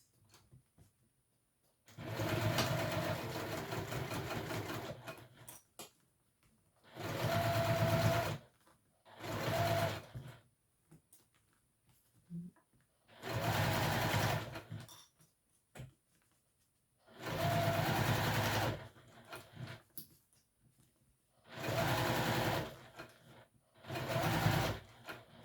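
A sewing machine stitches a fabric wristlet in six separate bursts of steady, rapid whirring, each a few seconds long, with quiet pauses between them.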